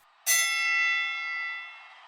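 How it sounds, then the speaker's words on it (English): Boxing ring bell struck once, a sharp bright clang that rings on and slowly fades over about two seconds against near silence. "The bell rings."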